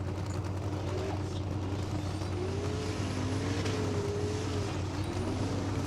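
Formula offroad car climbing a steep hill at a competition in Egilsstadir, Iceland, its engine droning steadily at a distance with wavering turbo whine rising and falling above the rumble.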